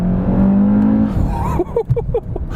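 A 2018 Audi RS3 engine revs hard in a lower gear toward 4,500 RPM, a steady close droning growl that rises then gives way to a voice exclaiming over it.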